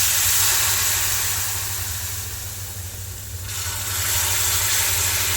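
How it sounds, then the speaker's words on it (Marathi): Hot ghee poured into roasted semolina for prasad shira sizzles with a loud, steady hiss that dips slightly midway and swells again, with no talking. "आता आपण जे गरम करत ठेवलेलं 2 वाटी तूप होतं ते यात हळूहळू ॲड करणार आहोत"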